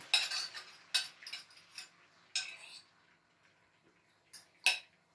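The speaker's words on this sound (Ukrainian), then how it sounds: "На сковорідку накриваю кришкою." Sharp metallic clinks and clatters of kitchenware, several spaced knocks as a lid is set onto a frying pan, with quieter gaps between.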